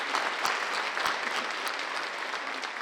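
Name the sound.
audience applause at awards ceremony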